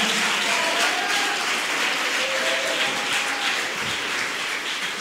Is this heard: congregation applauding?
yes